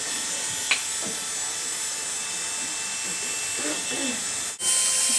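Electric hair clippers buzz steadily through a skin-tight fade haircut, a constant close whine with a brief click partway through and a sharper shift near the end as the blade is switched with the machine still running.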